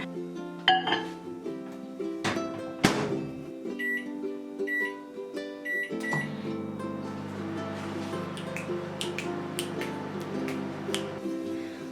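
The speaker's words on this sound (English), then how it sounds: "And now you microwave that for how long? 40 or a maximum of 50 seconds." A microwave oven runs close by, heating mug-cake batter, with a steady low hum under scattered clinks and beeping tones and a few sharp knocks.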